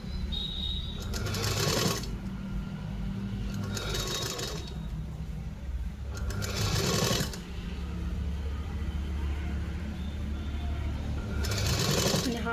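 Sewing machine stitching the seam of a blouse, running in several loud bursts of rapid whirring with short pauses between them, near and alone without talk.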